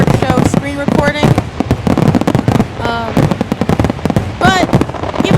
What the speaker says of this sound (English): I'm doing a fireworks show screen recording.